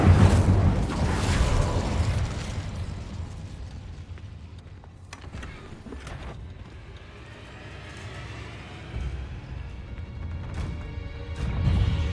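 Crackling bursts and booming blasts of the Incendio fire spell cast in Hogwarts Legacy, loud and repeated across the stretch, with rumbling game effects between the eruptions.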